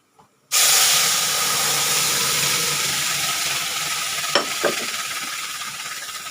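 Asafoetida powder dropped into hot oil while tempering spices for an arai keerai kulambu, giving a sudden loud sizzle that starts abruptly and keeps up a steady frying hiss, with a couple of faint clinks near the end.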